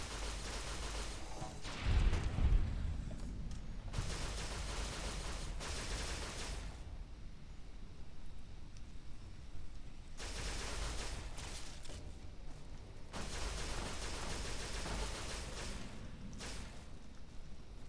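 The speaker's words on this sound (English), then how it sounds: "I hear gunshots from over in Novac." Bursts of distant gunfire crackle in several separate volleys in the video game Fallout: New Vegas, near Novac, with quieter stretches of rumbling ambience between them.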